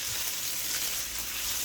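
Kebab pieces of beef shank sizzle steadily in a pan while being turned, a close, continuous frying hiss with no talk.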